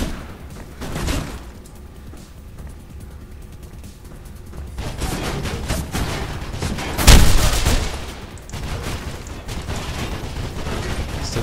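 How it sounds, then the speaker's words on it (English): Video game gunfire in Mirror's Edge: bursts of shots and a loud boom crackle over a busy action soundscape, with the firing growing denser and louder in the second half. "So there's guns, and unfortunately that means it's going to be really loud."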